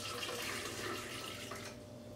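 Two cups of water poured into a blender jar for spiced pumpkin seed milk, a soft steady stream that tapers off near the end, with no talk.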